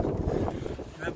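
Strong, cold wind blows at the entrance of a huge Byzantine underground city on a snowy day, gusting and buffeting the microphone in low roaring bursts.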